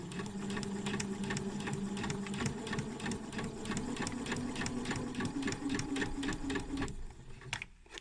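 A sewing machine stitches steadily around the edge of a small fabric pincushion, a fast continuous mechanical whirr with rapid ticking that runs loud and close, then stops abruptly near the end.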